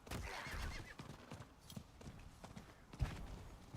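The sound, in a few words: horse neighing and hooves in a video game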